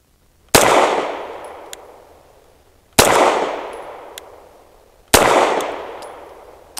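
Three BUL M-5 pistol shots, a ported shorter-barrel model, each a sharp, loud crack with a long ringing decay as it strikes a steel target, spaced roughly two and a half seconds apart.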